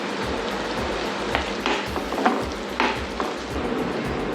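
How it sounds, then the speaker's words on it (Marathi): Finely chopped onion dropped into hot oil in a pan, giving a steady broadband sizzle with a few louder crackling bursts, close and continuous, with no voices. "आता आपलं तेल गरम झालेलं आहे, तर त्याच्यात आपण बारीक कापून घेतलेला कांदा तो टाकून घेऊया।"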